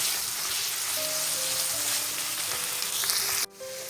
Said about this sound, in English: Then we're going to cook our ground beef until it's all brown.